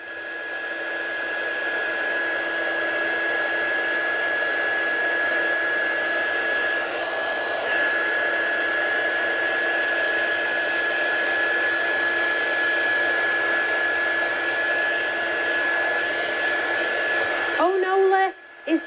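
A hair dryer runs steadily and close for nearly eighteen seconds to dry a watercolour layer on a card, a constant whooshing airflow with a high whine, before switching off with a couple of clicks.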